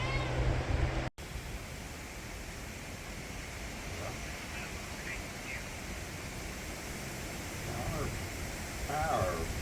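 Pet cats meow indoors during a major storm, a few faint, short calls late in the clip over a steady wash of rain and wind noise.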